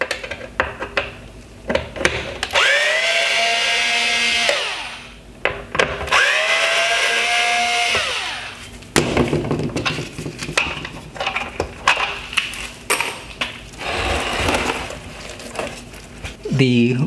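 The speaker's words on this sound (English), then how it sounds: "we just need to remove these two T20 screws" Power screwdriver removing T20 screws from a Mercedes-Benz C Class LED headlight, two loud whirring runs that rise and hold, with clicks and handling clatter of plastic parts around them and someone talking throughout.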